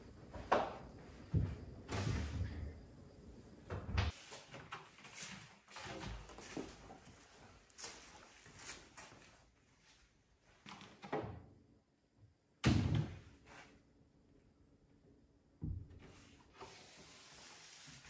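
Interior doors in an off-grid house under construction are handled and taken out, giving intermittent wooden knocks, bumps and scrapes with a couple of sharper thuds, quiet and sporadic with pauses between.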